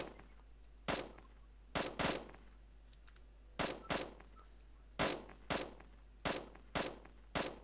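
An automated turret in the zombie-survival game Yet Another Zombie Defense fires in short, loud bursts of two or three shots, separated by brief pauses, over a low steady hum.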